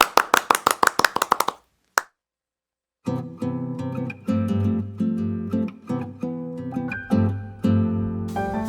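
Audience clapping for two stage actresses at a Korean theatre talk event: a quick burst of individual hand claps that stops, then music fills the rest of the stretch.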